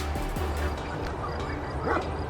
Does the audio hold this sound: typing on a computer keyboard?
no